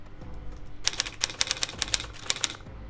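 Typewriter keys struck in a quick, uneven burst of about a dozen crisp mechanical clacks, close and fairly quiet, with a brief low thump before and after.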